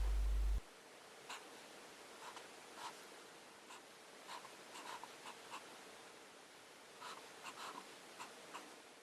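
A hand writes Japanese kanji stroke by stroke: soft, scratchy strokes come in short irregular bursts over a steady hiss, after a brief loud thump at the start.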